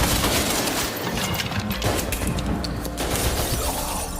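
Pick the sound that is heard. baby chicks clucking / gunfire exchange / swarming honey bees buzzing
gunfire exchange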